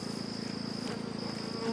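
Honey bees on a plastic foundation hive frame give a steady, soft, continuous buzz at close range, with no voices.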